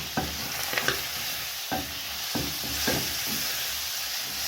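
Goat tripe (matumbo) is stirred in a hot pan with Knorr beef and onion seasoning. A steady sizzle runs under repeated scraping strokes of a spoon, about five distinct stirs, close by.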